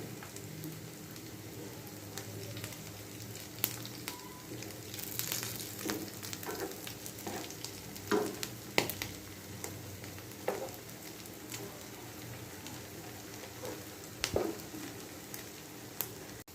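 Potato chops deep fry in oil, a faint, steady bubbling crackle with scattered sharp pops and occasional utensil clicks.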